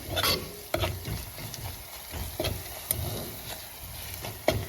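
Kashmiri chili powder roasting in a pan for Kerala fish curry, a soft sizzle beneath repeated scraping spoon strokes, several sharp clicks punctuating the stirring.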